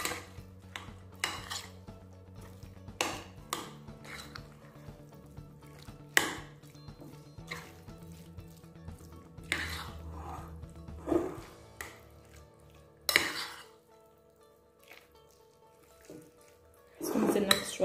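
Ingredients for a Tunisian cauliflower tajine being stirred and mixed in a bowl, with intermittent scraping and clinking of a utensil against the dish and soft squishy mixing sounds, close and moderately loud.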